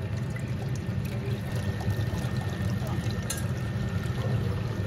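Liquid poured steadily during home beer brewing, a continuous gushing pour of wort into a vessel lasting throughout, fairly close.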